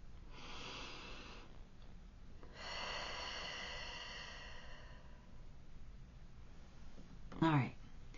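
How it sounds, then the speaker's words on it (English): A slow, deep breath drawn in and let out close to the microphone, a soft airy inhale followed by a longer exhale, then a brief sharp sniff or snort near the end. "So take a deep breath with me."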